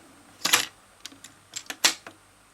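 Chromium dioxide type 2 cassette tape dropped into the deck of a Sony MHC-NX1 hi-fi system under repair, giving a sharp plastic clack followed by several lighter clicks and a second firm snap, close and fairly quiet, with no talking.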